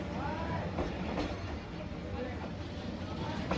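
Passenger train rolling slowly through the narrow Hanoi train street between buildings, a steady rumbling clatter of railcars close by with broadband rail noise throughout and faint voices in the background.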